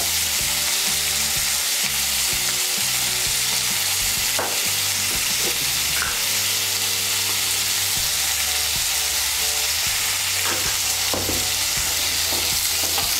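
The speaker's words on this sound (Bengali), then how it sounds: "নুন আর হলুদটা ভালো করে মিশিয়ে নেব।" Salt and turmeric get stirred into tomato and onion frying in oil, a loud, constant sizzle with a low hum beneath and occasional utensil scrapes.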